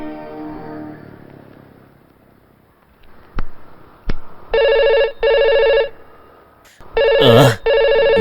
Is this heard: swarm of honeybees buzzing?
no